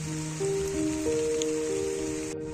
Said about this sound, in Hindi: हल्की हल्की बारिश की बूंदें गिरना स्टार्ट हो गई है।